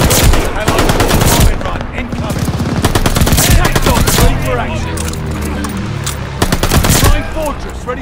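An MG42 machine gun fires in a video game, loud rapid bursts with a buzzsaw-like rate, broken by short pauses, with battle noise continuing between bursts.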